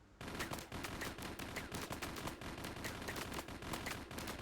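A MAC-10 submachine gun fires in a video game, one long, fast, steady automatic burst of rapid shots, loud and close, with no talking.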